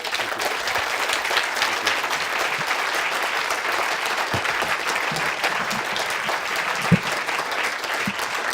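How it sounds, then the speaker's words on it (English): An audience at an inaugural lecture claps steadily for several seconds, a broad, even wash of many hands with a few louder individual claps standing out near the middle. "a big round of applause for Blaine"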